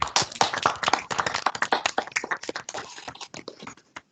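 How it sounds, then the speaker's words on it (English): Scattered clapping from a few participants on an online video call, uneven individual claps with sharp separate hits, fairly close, thinning out toward the end. "just unmute your mic one last time for a round of applause for Tom McConigley."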